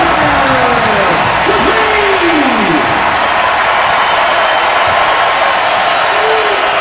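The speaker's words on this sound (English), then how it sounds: "Bringing another sellout crowd at the Kohl Center to its feet" Sellout basketball crowd at the Kohl Center rising to its feet for Wisconsin against Indiana, a loud sustained roar and cheer filling the arena, with some whistles early on.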